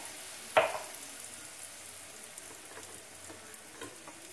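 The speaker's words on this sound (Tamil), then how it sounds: "நல்லா நல்லா வதக்கிக்கலாம் அந்த பச்சை வாசனை போகிற அளவுக்கு வதக்கிக்கலாம்" Ginger garlic paste sautés in a pan, a faint, soft sizzle under a low hiss, with one sharp clack of a spatula early on and light stirring afterward.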